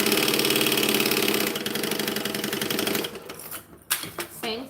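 Sewing machine whirring loudly through a seam and back stitch for a five-piece set, then stopping, after which fabric rustles and a voice speaks.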